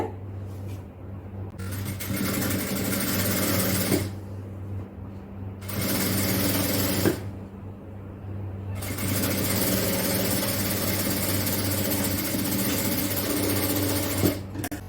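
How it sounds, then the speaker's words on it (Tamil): A sewing machine stitches and overlocks fabric in a steady mechanical whir, running in several long bursts broken by short pauses, close and loud throughout. "அதை அப்படியே ஓவர்லாக் பண்ணிடலாம்."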